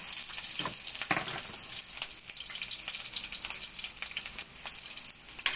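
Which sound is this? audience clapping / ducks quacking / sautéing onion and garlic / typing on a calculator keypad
sautéing onion and garlic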